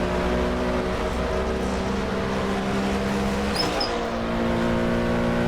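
A Porsche 917 race car at full speed during the 1970 24 Hours of Daytona, its engine a loud, steady, close drone that shifts briefly partway through before holding again.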